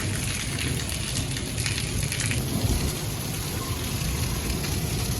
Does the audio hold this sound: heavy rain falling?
yes